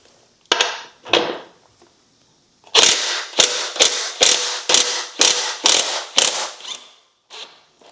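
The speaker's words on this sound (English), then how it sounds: "A 24mm socket will loosen" A 24mm socket on a ratchet loosening the axle nut of a 2024 Triumph Scrambler 400X motorcycle, heard as a few sharp clicks followed by a fast run of loud, close ratcheting bursts, then a final short click.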